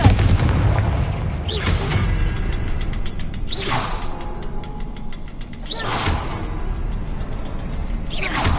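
Confringo blasting spells in Hogwarts Legacy go off as four separate whooshing bursts spaced a couple of seconds apart, each a loud sharp blast over a steady rumbling game backdrop.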